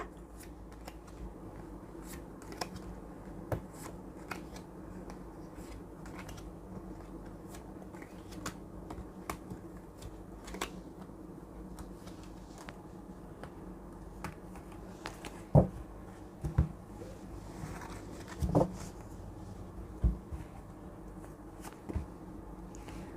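Tarot cards being shuffled, picked and laid down for a Sagittarius love reading, with soft repeated flicks and taps over quiet room tone and a few sharper card slaps near the end.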